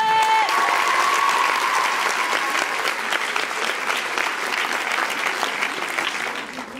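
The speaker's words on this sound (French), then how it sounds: "on peut l'applaudir à Nathalie." Loud, sustained applause from a theatre audience at a Paris film premiere, honouring Nathalie, dense clapping holding steady for several seconds and easing slightly toward the end.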